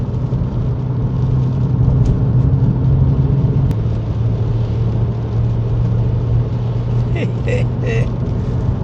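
Inside a Porsche 987 Boxster on a rough UK B road, a steady engine drone and road rumble hold at an even level throughout, with no breaks.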